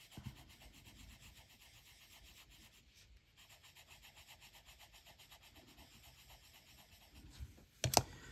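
An Aquarellab watercolour pencil in light grey shades across paper for a stone fireplace effect, giving a soft, close, rhythmic scratchy rubbing that runs steadily, with a brief louder scrape near the end.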